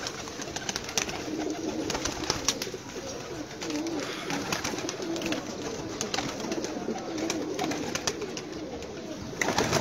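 Pigeons held by a keeper coo and flutter steadily throughout, a dense, close bird chorus with no speech over it.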